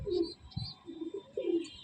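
A female Giribaj pigeon coos close by in a loft, several soft throaty coos in quick succession, alone and fairly quiet.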